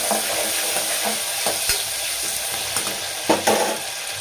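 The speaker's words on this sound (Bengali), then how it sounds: "একটু নাড়া দেবো," Khichuri with vegetables and a spoonful of ghee stirred in a cooking pot: a steady close sizzling hiss under scattered spoon scrapes and knocks, with a couple of louder clanks near the end.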